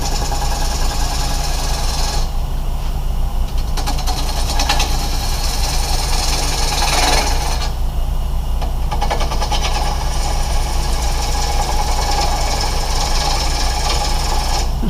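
A bowl gouge cuts a spinning wood blank on a lathe, making a loud continuous rumbling drone with rough scraping texture that rises and dips in intensity.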